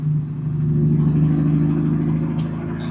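A truck engine drops in revs after the throttle is released, settling toward 700 RPM as a loud, steady low drone heard from inside the cab, with a brief hiss near the end.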